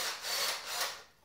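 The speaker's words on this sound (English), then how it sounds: "I drill from one side and then I flip it round and I drill from the other side." A drill grinds through a spine in one steady rasping stretch, close and fairly quiet with no voices.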